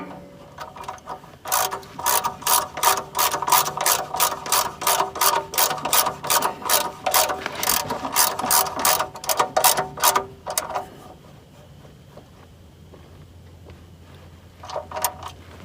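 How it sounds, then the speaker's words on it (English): A ratchet tightening an oil pan drain plug during a 5W-20 oil change, rapid steady clicking in close, loud bursts for about ten seconds, then quiet with a brief final few clicks. "So now we're just going to tighten up our drain plug here"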